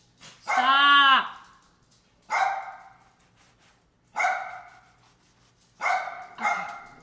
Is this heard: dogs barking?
yes